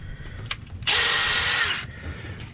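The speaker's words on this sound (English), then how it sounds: "Makes it a lot easier to clean out holes if you hook the tap to a drill." A power drill spins a thread tap to clean out bolt holes during a water pump replacement on a 2001 Chevrolet Silverado with the 5.3L engine: one whirring burst of about a second, close and clear over quiet background.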